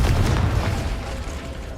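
The Confringo fire spell goes off in Hogwarts Legacy as a deep, booming blast, loud at the start and then fading into a rumbling, crackling tail over a couple of seconds.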